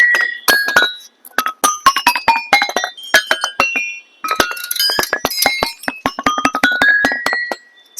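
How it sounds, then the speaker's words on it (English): Stone lithophone slabs at a science park are struck in quick succession, giving bright, clinking, bell-like tones with sharp attacks and short ringing decays, close and loud, with brief pauses between runs. "I know you would be hearing the sound of this lithophone"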